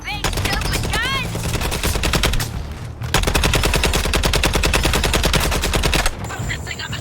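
Rapid bursts of gunfire in Suicide Squad: Kill the Justice League on PS5 rattle almost continuously, loud and close, with brief electronic zaps and effects mixed in.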